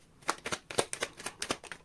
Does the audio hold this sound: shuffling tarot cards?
yes